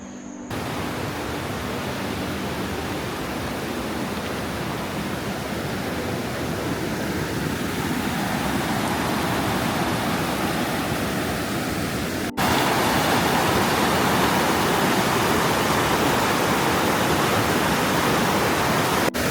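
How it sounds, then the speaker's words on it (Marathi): A rushing stream at the base of Shitkada Waterfall roars as a steady, loud broadband wash of water, continuous throughout and swelling slightly louder partway through, with no voices. "पोचलो आहे, ओढ्याजवळ पोचलो आहे."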